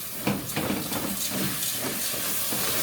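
Washed rice tipped into a hot pot and stirred while cooking yellow Alexandrian koshari, giving a steady hissing sizzle with scraping stir strokes repeating throughout.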